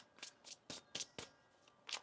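Tarot cards being shuffled by hand, a run of six quick crisp riffling bursts at an even rhythm, close and fairly quiet with no voices.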